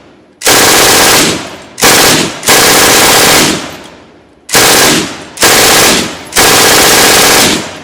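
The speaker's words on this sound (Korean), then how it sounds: "MG42는 총알 발사 시 전기톱이 작동하는 소리가 들리게 됩니다" MG42 machine gun firing in loud, very rapid bursts that sound like a ripping buzz, about six long bursts separated by short pauses, close and dominant.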